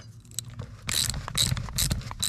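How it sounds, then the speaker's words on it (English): A ratchet loosens the hinge bolts holding the tracks on an Argo ATV, giving a series of quick, close mechanical clicking bursts that repeat in short strokes. "basically there's two bolts that go through the hinge here to keep the tracks on, so we'll take those off"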